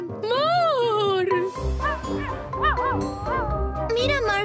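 A cartoon dog yelps and whimpers in high, wavering cries, loud and close, over a busy animated scene with background music.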